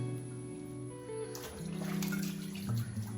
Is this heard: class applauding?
no